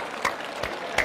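An audience clapping hands in unison, three sharp, loud claps spaced roughly evenly in a steady rhythm, with no talk between them.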